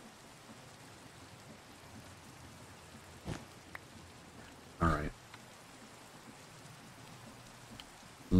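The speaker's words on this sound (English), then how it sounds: "Get rid of the rain real quick." Steady rain falls in the Minecraft Enigmatica 6 modpack, a soft continuous hiss with a few brief louder bumps, while someone speaks briefly.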